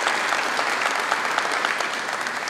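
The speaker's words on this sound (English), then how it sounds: "let's give them a round of applause for the help that they gave us" Steady, dense applause from a sizable crowd, loud and continuous throughout with no pauses.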